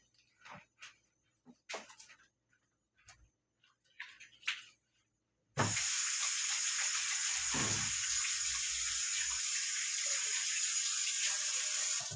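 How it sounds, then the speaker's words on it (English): Hands are washed under a kitchen tap. A few scattered light knocks and clicks come first, then after a short silence a loud, steady rush of running water continues to the end. "I'm going to go and wash my hands."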